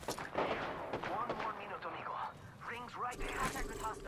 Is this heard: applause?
no